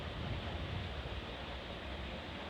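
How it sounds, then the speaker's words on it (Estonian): Water rushing out from under a road through a levada irrigation channel in Funchal, Madeira: a steady, loud, broadband wash that keeps going without a break, with no voices. "Siit on nüüd näha, kuidas Levada vee alt välja tuleb."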